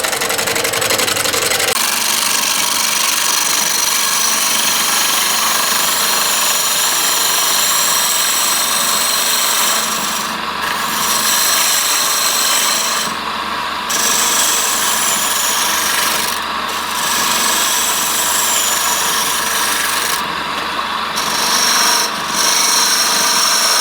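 A wood lathe spins a redwood burl platter at about 700 RPM, a steady loud motor hum under continuous rough scraping and rubbing of the cutting tool, with brief breaks in the cut and no talk.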